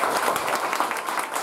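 Schoolchildren clap together in a steady burst of applause at a government upper primary school's Independence Day rehearsal, a dense continuous patter of hands throughout.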